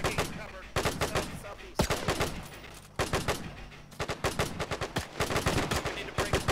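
Rapid gunfire bursts from World War II weapons in the Task Force Athena video game, loud and close, with repeated sharp volleys and short automatic strings across the whole stretch during a retreat toward Dunkirk.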